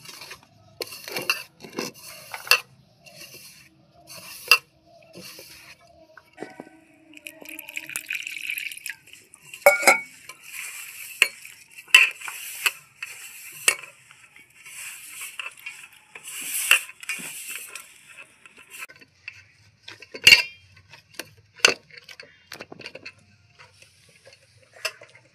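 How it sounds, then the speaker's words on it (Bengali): Dough for matar kachuri, mixed with salt, a little oil and a little sugar and kneaded by hand, making sparse sticky slaps, squishes and light clicks at close range with quiet gaps between them. "পরিমাণ মতো নুন, সামান্য একটু তেল, সামান্য একটু মিষ্টি, ভালো করে সব মেখে নেব"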